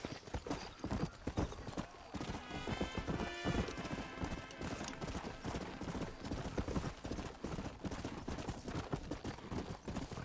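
Horse hooves clip-clop rapidly in a steady galloping rhythm within a video game, loud and close, with an occasional whinny over busy game sound.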